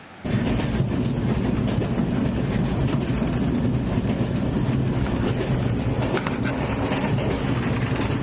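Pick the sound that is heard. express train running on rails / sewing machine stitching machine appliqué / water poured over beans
express train running on rails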